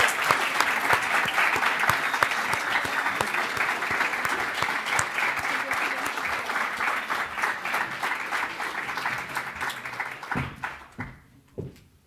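Sustained audience applause at a competition final event, a dense wash of many hands clapping steadily for about ten seconds before thinning out and stopping.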